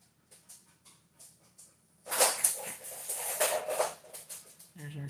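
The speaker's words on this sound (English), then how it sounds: "There's our crazy dog running around." A pet dog named Shadow scampers and whimpers indoors, a few soft sounds at first, then louder scrabbling and whining for the last few seconds.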